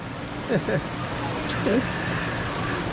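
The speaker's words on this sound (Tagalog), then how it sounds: "Umuulan din po rito." Steady rain hisses throughout, with a few brief voices rising over the constant patter.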